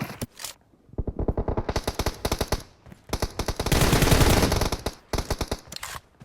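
Bursts of automatic gunfire in PUBG, loud and close, firing in rapid rhythmic volleys with a dense sustained barrage midway before more short bursts.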